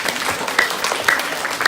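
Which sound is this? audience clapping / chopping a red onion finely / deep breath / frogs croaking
audience clapping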